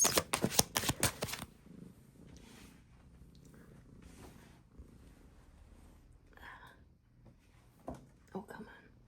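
Brief rapid flurry of oracle cards being shuffled up close, a burst of crisp riffling slaps at the start, followed by quieter shuffling rustles and soft talk.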